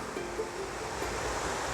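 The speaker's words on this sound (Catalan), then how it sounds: "Mira quina cascada." A waterfall pours beside a road near a cemetery, heard as a soft, steady wash of falling water at a moderate distance, continuous and unbroken.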